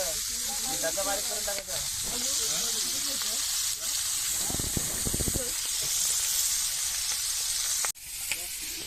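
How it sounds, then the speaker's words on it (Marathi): Fish meat frying in a pan after being flipped, a steady close sizzle and hiss running throughout, with brief bursts of crackle and a short dip near the end, under no clear talk. "आता पलटी मारलं आपलं मास आता फ्राय होतील"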